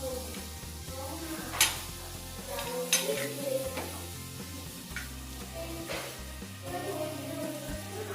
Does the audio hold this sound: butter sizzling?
yes